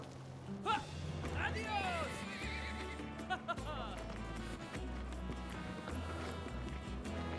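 A horse neighs amid game music and effects in Zorro The Chronicles, a whinny rising early and another around the middle, with hoof clip-clops under steady background score.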